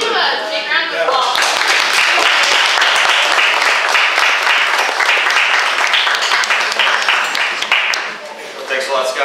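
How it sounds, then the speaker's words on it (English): A live audience at a Theology on Tap talk breaks into loud, dense applause. The clapping stays steady for most of the clip and eases slightly near the end. "Let's give him a big round of applause."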